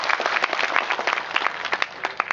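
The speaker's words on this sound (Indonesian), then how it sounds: "tepuk tangan semuanya." A small audience at a community gathering in Cangkringan, Indonesia, claps for a couple of seconds, a brisk scatter of hand claps at close to moderate distance.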